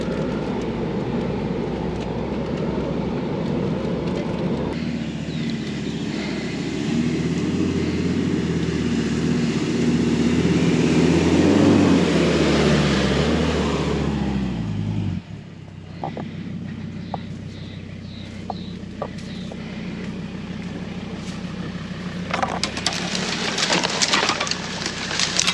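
A car grinds up a steep, overgrown road toward a summit, its engine droning loud and close with a rising strain, then the note drops sharply and settles into a lower, rougher rumble with rattles and knocks.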